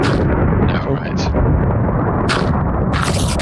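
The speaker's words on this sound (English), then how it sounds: "That's a really good thunder noise." Loud, deep thunder in the video game Minecraft (SevTech Ages modpack) rumbles continuously, with sharper crackling bursts breaking through the heavy roar.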